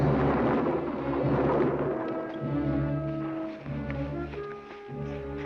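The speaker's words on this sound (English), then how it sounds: "Sounded like thunder" A deep rolling rumble of thunder on a planet's surface in a science-fiction television episode, sustained and loud with swelling low tones, no talking.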